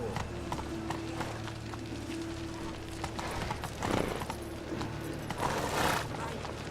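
Roach, a horse in The Witcher 3, galloping with a quick rhythmic run of hoofbeats over a game soundscape, plus a couple of louder bursts of movement.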